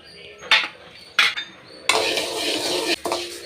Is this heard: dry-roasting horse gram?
yes